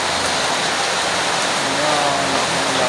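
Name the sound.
heavy rain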